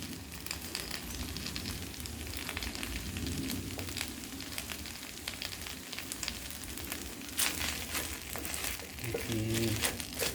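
Noodles stir-fried with cabbage in a pan over a weak flame give a steady sizzle with crinkly scraping and tossing, fairly close and continuous, and a louder burst of frying near the end.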